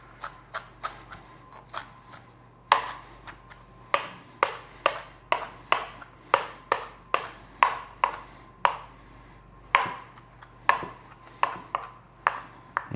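A knife roughly chops baby spinach on a board, a quick series of crisp, close taps in uneven bursts with brief pauses, loud and clear against a quiet kitchen, with no talking.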